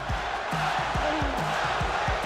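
A large boxing arena crowd at a Mike Tyson fight roars steadily throughout, with faint thuds and squeaks beneath the continuous wash of cheering.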